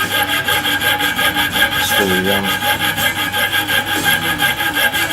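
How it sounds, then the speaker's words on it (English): A jeweler's piercing saw cuts a trigger shape from a piece of aluminum, making a fast, steady rhythm of close, fine rasping strokes with a brief spoken word in the middle. "Using a jeweler's piercing saw to cut the trigger shape out of this piece of alum there."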